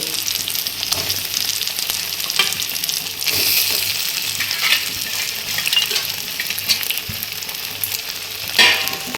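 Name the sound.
sautéing prawns in spice paste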